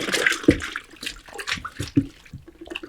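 Water splashes and sloshes in a bucket as it is stirred together with a gel window-cleaning liquid, with irregular bursts of swishing and a few sharper splashes close by.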